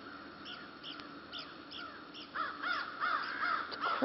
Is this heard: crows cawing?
yes